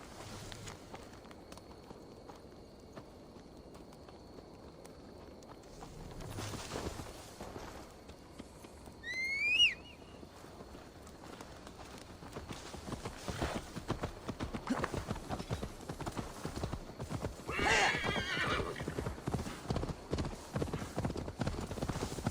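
Horse hooves clip-clop steadily in Assassin's Creed Valhalla, quiet at first and growing louder and busier as the horse moves, with a brief whinny partway through.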